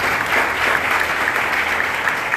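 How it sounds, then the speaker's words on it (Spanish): An audience applauds a deputy at a political rally in La Romana, with a dense and steady burst of clapping throughout. "Denle un aplauso al diputado Benzo."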